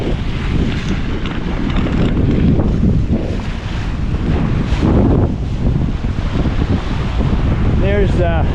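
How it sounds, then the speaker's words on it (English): A small, fast sailboat pushes through wind and waves, with heavy roaring wind buffeting the microphone and rushing water throughout, loud and continuous, plus a brief voice near the end. "It's a pretty fast little boat."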